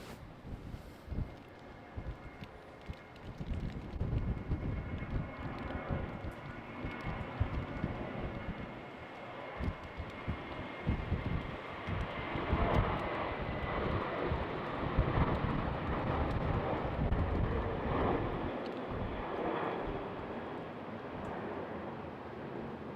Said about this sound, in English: And we have another takeoff.